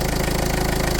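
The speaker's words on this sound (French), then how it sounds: "Vous laissez votre moteur bien chauffer." A Peugeot 1.4 HDI diesel car engine held at raised revs, a steady close mechanical hum with an even, fast knocking pulse and no other sounds.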